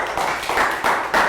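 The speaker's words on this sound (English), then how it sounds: "Round of applause for Lakgao." A classroom of young children applauds a student volunteer during a Year 3 maths lesson, with steady clapping in bright bursts and no voices over it.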